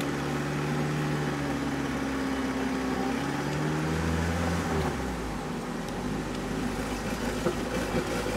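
A 1986 Toyota MR2 with an eBay turbo kit idles fast, holding a steady, fairly loud engine drone; its pitch shifts and settles partway through.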